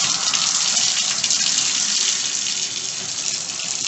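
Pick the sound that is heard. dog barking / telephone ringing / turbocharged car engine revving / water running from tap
water running from tap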